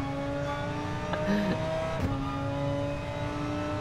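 A Gr.3 race car engine at Monza in GT Sport, a loud harmonic engine note with gear-change dips and shifting pitch as it revs and shifts, heard alone at close range.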